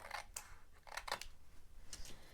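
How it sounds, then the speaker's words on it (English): Scissors trimming paper even with the edge of a notebook cover, a few quick, crisp snips spaced irregularly, close and clear with no talking. "we're just going to take our scissors and trim that even with the front"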